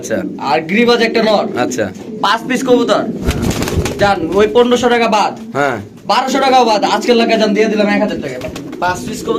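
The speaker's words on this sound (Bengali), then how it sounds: "এত সুন্দর সুন্দর কবুতর দেখেন আপনারা" Pigeons coo repeatedly close by while people talk over and between the calls at a pigeon market.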